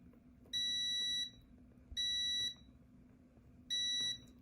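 A continuity tester beeps on a breadboard rail: three steady, shrill, pure electronic tones, each lasting about half a second to a second, with short gaps between them, loud and close over a faint low hum.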